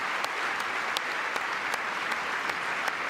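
Applause fills a congressional chamber during a presidential joint address, a dense, even crowd clapping that continues steadily throughout without talk over it.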